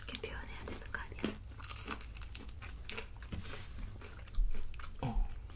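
Crunchy Nene fried chicken is bitten and chewed right at the mic, with crisp crackly bites, soft crinkling and a couple of louder crunches near the end.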